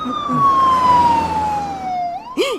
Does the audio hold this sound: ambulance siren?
yes